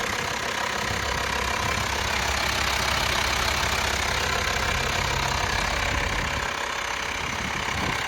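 A Volkswagen Transporter TDI diesel engine idles close by with a steady, even rumbling clatter that stays the same level throughout, with no voices.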